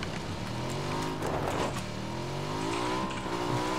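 A motorcycle engine in the PUBG video game, a continuous, close, buzzing drone whose pitch climbs and dips as the bike accelerates and eases off, with a brief rougher burst partway through.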